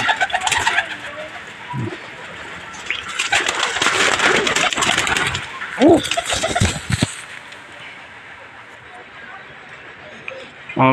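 Racing pigeons coo in a loft, soft low calls recurring through the clip amid rustling, wing flutters and background noise, with someone talking nearby.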